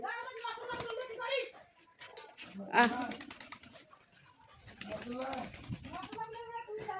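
Pigeons coo softly nearby while people, including a child, talk excitedly over them.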